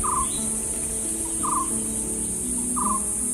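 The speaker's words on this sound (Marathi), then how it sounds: "पक्ष्यांचे किती नैसर्गिक आवाज आहेत पहा." Forest bird calling, three short repeated whistled notes spaced about a second and a half apart, moderately near, over a constant high insect drone and soft background hum.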